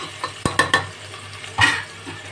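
A spoon stirs lentils in a little hot oil in a pan for Bengali biulir dal: several sharp metallic clinks and scrapes against the pan over a faint sizzle.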